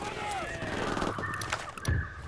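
Gunfire in Ghost Recon Wildlands as a firefight starts: scattered shots and short bursts at moderate level under game dialogue and background ambience.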